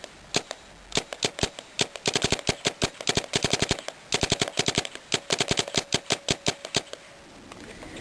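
An Xtralator paintball gun firing test shots: sharp, snappy pops, first spaced singly, then in fast strings of rapid fire with short pauses between, loud and close with no talking.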